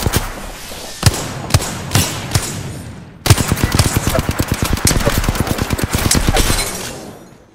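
Gunfire from the video game Apex Legends: a few spaced single shots give way to a dense burst of rapid automatic fire, loud and close, that fades out at the end.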